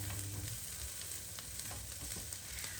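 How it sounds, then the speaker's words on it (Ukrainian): Onion and carrot frying in a pan, a steady close sizzle with faint crackles and stirring scrapes, no talking. "Цибулька з моркою вже обсмажилася."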